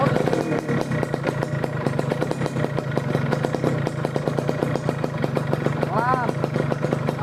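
A motorcycle engine runs steadily nearby, a continuous low idling putter, with people talking over it throughout.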